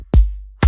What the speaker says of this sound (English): I also added this hi-hat, which plays together with the kick to give it some more energy.